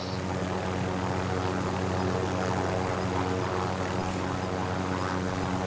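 An aircraft flies in the Call of Duty Warzone video game: a steady, loud propeller-engine drone heard from close by, unbroken throughout with only slight swells in intensity.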